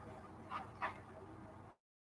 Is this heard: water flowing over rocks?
no